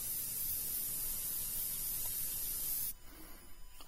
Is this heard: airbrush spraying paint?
yes